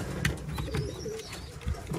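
Racing pigeons in a loft coo softly and repeatedly at close range, with low throaty calls over a busy, rustling background.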